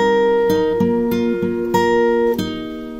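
Acoustic guitar fingerpicks the opening bar of a song, a steady picked pattern of ringing notes over a bass note, bass changing every beat or so, played solo and close with no talk.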